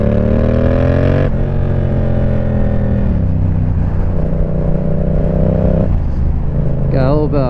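A Yamaha MT-07 motorcycle exhaust revs loud and close, with a throaty low-RPM chopper-like rumble that steps up and down in pitch through several revs, ending in a wavering blip.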